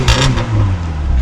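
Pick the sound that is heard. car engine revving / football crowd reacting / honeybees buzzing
car engine revving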